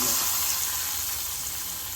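Mustard and cumin tempering seeds hiss and sizzle in hot oil as they go into a brinjal pachi pulusu stew, a steady loud frying crackle filling the whole stretch with no voices.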